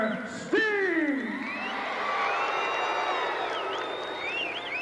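A wrestling arena crowd cheers and whoops for Eddie Gilbert and Sting, a loud, sustained roar with rising shouts that fills the whole stretch, with voices mixed into the noise.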